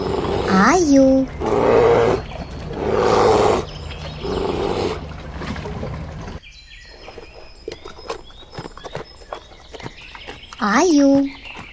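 A wild bear gives several loud, close roars in the first few seconds, followed by a quieter stretch of crackling and rustling, then one more sharp roar near the end.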